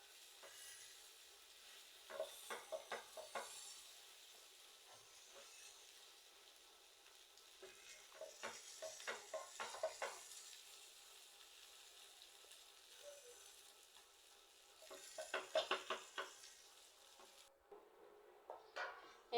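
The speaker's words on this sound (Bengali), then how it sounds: "এটাকে ভালোভাবে ভেজে নেবেন" A cheesy paratha fries on a pan with a soft, low, continuous sizzle. Louder crackling bursts come now and then, and it falls quiet near the end.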